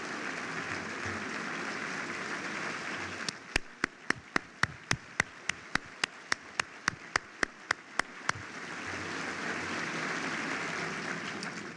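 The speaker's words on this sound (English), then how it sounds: "can we please acknowledge Ben and Marcia Emanuel and give them a round of applause" Applause from a luncheon audience honouring two guests, a broad steady wash of clapping that runs throughout, broken in the middle by a run of sharp, evenly spaced clicks or snaps.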